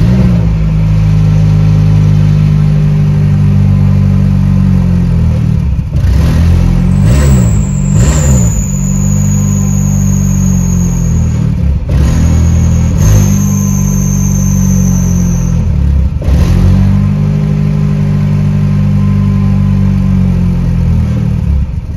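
A car engine that keeps stalling revs loudly as the gas pedal is pressed, holding a strong, steady drone with several sharp rises in pitch and falls back, close and alone without speech.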